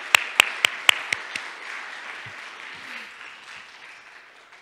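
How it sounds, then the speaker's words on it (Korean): Congregation applause in a church service: a few sharp, distinct claps open, then spread into a softer, sustained round of clapping that gradually fades away, with no voices over it. "감사와 영광의 박수 올려드리겠습니다"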